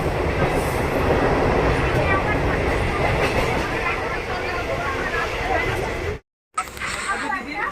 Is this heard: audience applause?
no